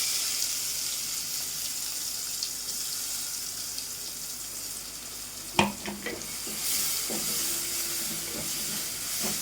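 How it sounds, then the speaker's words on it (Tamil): Fennel, curry leaves and crushed ginger, garlic and pepper sizzling in hot oil for a crab gravy, a steady close hiss with a sharp clatter midway and a brief stir, no talking. "எண்ணெய் சூடாயிட்டு சோம்பு வந்து சேர்த்துக்கிறேன் கருவேப்பிலையும் வந்து இஞ்சி பூண்டு மிளகு இது மூணுமே வந்து இடிச்சு வச்சுருக்கேன் இதையும் வந்து சேர்த்துக்கலாம்"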